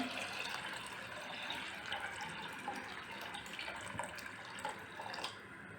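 A steady stream of water pours and trickles into a cooking pot of horse gram, continuous and fairly faint throughout.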